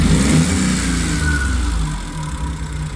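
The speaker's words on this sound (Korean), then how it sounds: "악셀 페달을 잠깐 밟아 볼게요." Car with a starting fault, a rough-running engine revving as the accelerator pedal is pressed, loud and close, a steady droning growl that holds and then eases slightly toward the end.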